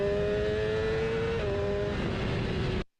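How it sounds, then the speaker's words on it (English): A BMW S1000RR superbike engine accelerates hard at Donington Park, a loud, steady, high-pitched roar with a brief tonal shift midway as it climbs. It cuts off abruptly near the end, with no voices. "the injectors are fully open when you get that second sort of noise coming up through the tank"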